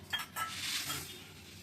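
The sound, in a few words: mung dal being fried in a pan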